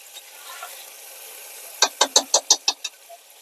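Shurpa ingredients, vegetables in a pot cooking outdoors, are stirred with a utensil, making a quick run of about seven close, rhythmic scraping clacks against the pot after a quiet start.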